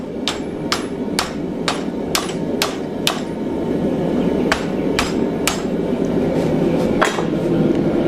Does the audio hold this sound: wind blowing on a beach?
no